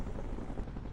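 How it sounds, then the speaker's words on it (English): Helicopter sweeping in low for a touch-and-go troop drop in a military operation, its dense rotor roar steady and loud throughout, close by, with no voices. "Chopper swept in for a touch-and-go drop."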